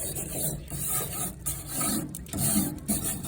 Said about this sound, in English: And we're going to get that brush down.